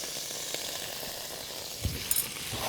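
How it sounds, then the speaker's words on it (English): Knob of butter sizzling in a hot wok for pork fried rice, a faint steady hiss with a few small pops and crackles, no talk. "I'll add in just a knob of butter here"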